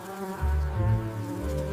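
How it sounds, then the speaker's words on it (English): A small housefly hums steadily and close, a continuous droning buzz that swells slightly midway and holds for under two seconds with no talking. "Who is this buzzing little guest?"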